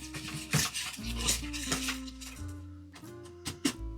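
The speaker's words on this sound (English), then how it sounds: "Now I'm going to use a whisk because I think it's going to blend this up just a little" A whisk stirs a sauce of onion soup mix and brown sugar in a pot, giving repeated clinking metal scrapes and rattles close up, with a faint steady background hum.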